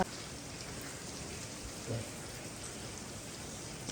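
Rain falls outdoors at night as an even, dense hiss of drops on surfaces, steady throughout with one brief soft thump partway through.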